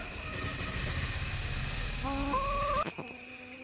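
A black hen (karinkozhi) at a Kerala home after rain gives a short, nearby call of a few notes over a steady background hiss.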